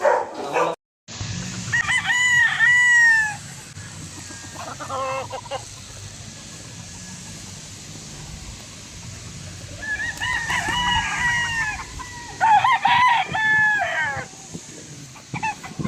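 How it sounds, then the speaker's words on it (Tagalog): Several roosters crow in long, rising calls, some overlapping, with chickens clucking in between, loud and close in an outdoor setting. "Daming manok."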